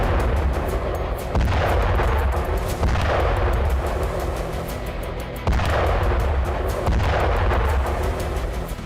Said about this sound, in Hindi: यूक्रेन के एक सैन्य बेस को भी MLRS हमलों में तबाह कर दिया गया